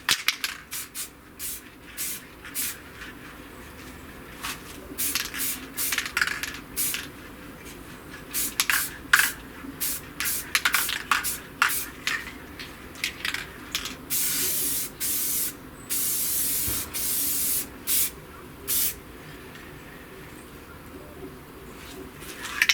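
Spray paint hisses in repeated short bursts as a final coat goes onto an Estes Big Bertha model rocket, with pigeons cooing softly in the background.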